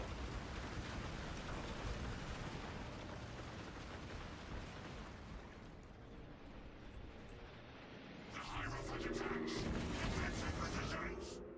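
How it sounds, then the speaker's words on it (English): An artillery barrage in a Space Marine video game sounds as a faint, continuous low rumble of distant blasts that grows louder toward the end, with speech in the clip. "God, they're being bombarded."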